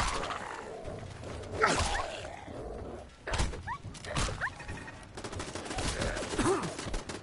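Gunfire in a Fallout video game, several separate shots and short bursts spread across the span at moderate loudness, with sharp yelps or barks mixed in among the shots.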